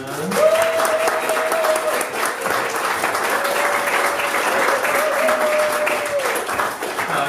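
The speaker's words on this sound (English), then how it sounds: "I want you to clap for Zarina." An audience applauds for Zarina, a local improviser, at a Creative Mornings talk in Tucson, with steady dense clapping throughout and a voice or tonal sound riding faintly above the crowd.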